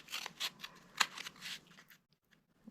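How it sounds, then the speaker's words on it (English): Scissors trimming a folded end off a cardboard tube for a papercraft infinity cube, a few quick close snips and crisp cutting crunches, then a short pause and a faint final click. "I'm going to trim off the folded bit"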